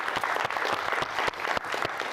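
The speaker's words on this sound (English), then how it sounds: "One more round of applause for all the brave pitches." An audience at a startup demo day claps for the pitch presenters, close, uneven hand claps with a few sharp individual smacks standing out from the dense, steady applause.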